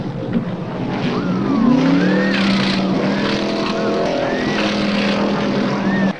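Stock cars race past in old archival footage, engines droning and whining with rising and falling pitch as they sweep by, a loud continuous roar with overlapping car passes.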